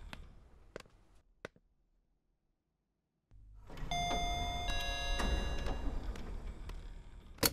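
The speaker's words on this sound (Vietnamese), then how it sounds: "Nhớ bấm 4 tiếng chuông nha." A doorbell rings in a Vietnamese crime drama, a few faint isolated dings followed by a sustained, louder chiming ring over a dense background.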